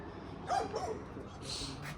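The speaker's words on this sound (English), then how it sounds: "Got Tezza inside barking" A dog gives a couple of quick, muffled barks or yips, somewhat distant as if from another room, over a quiet background.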